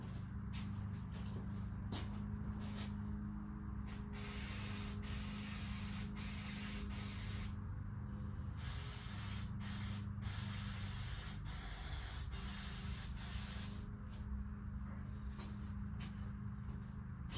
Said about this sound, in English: I'm just going to go over and spray a little on the carb right now.